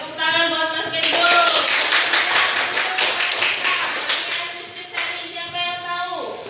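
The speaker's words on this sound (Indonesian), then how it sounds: "Beri tepuk tangan buat Mas Kenzo." Classroom clapping during an Indonesian teacher-training lesson: a burst of many hands applauding for about four seconds, loud and close, with a voice speaking before and briefly after.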